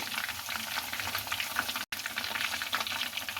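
Chicken frying in hot oil, a dense continuous crackling sizzle heard up close and fairly loud, broken only by a split-second gap.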